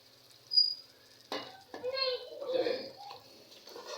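Chicken is added to spiced masala in a pan and starts frying, a sudden sizzle followed by steady crackling and hissing under a voice.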